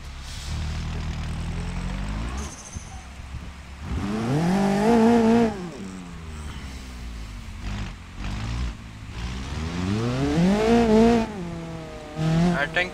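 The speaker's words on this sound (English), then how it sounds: "I think this sounds like a typical drift car too" Drift car engine in a video game revving hard in repeated rising bursts, loud and close, with a strong whining pitch climbing and falling between quieter idle stretches, voices faintly present.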